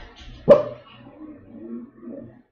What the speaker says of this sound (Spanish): dentro de un rato van a ladrar los perros porque paró un auto